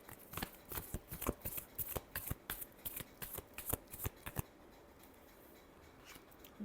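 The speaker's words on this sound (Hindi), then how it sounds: "Last shuffle." A tarot deck riffled and shuffled in a quick run of crisp, papery bursts for about four seconds, then quiet; no one talks.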